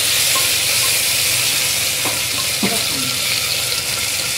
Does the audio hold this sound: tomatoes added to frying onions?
yes